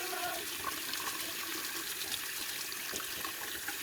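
Tap water runs steadily into a sink while a Gaggia Evo Pro espresso machine part with a blocked solenoid is rinsed after descaling, a continuous close splashing rush with small fluctuations and no talking.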